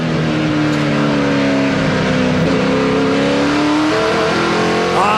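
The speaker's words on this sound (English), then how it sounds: "The sound of that Dodge horsepower hustling down the backstretch here at Mosport" A Dodge race car engine roars loudly and continuously up close on the backstretch at Mosport, its pitch climbing steadily as it accelerates hard.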